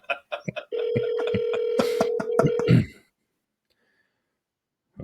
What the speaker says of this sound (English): Maybe a few rings at least